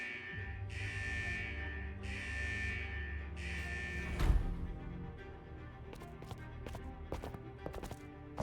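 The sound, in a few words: vault central alarm in video game Wuthering Waves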